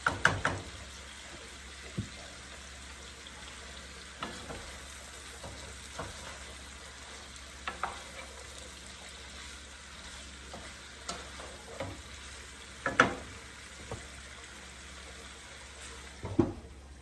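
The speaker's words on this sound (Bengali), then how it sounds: "ভাজিটা হইতে থাক" Vegetable bhaji frying in a pan, a steady soft sizzle under repeated scraping and knocking of a spatula stirring, close and moderately quiet, with occasional sharper taps on the pan.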